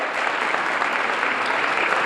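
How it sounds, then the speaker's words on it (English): Audience applauding educators during Teacher Appreciation Week at a district art show, a dense steady wash of clapping filling the whole moment. "Can everyone give them a huge round of applause"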